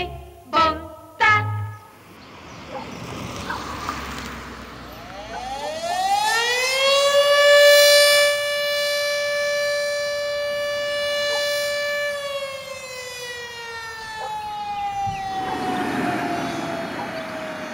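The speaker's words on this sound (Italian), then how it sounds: "La sirena è una... è un tratto distintivo quasi del paese" Town factory siren of a confectionery works, preceded by a few short knocks, then winding up to a long, loud, sustained wail that holds steady before slowly falling away.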